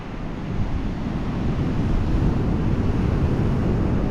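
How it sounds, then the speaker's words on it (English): Rough surf breaks on a beach while strong wind buffets the microphone, making a dense, continuous roar that swells slightly after the first half-second and then holds steady. "We got rough water, rip currents, wind right in our face."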